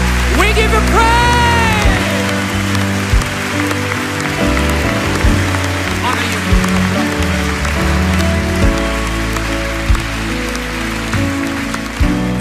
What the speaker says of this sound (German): Komm, wir geben Jesus mal einen mächtigen, mächtigen, gewaltigen Applaus.